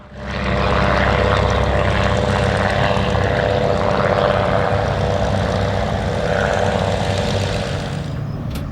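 A vintage de Havilland DH-90 Dragonfly propeller aircraft engine drones steadily and loudly for the whole stretch, a dense, constant roar with no talk over it.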